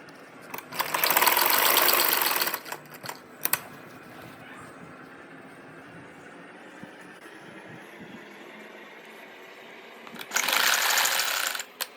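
A sewing machine stitches kurti fabric in two loud whirring bursts, one early and one near the end, with quieter handling noises and faint clicks in between.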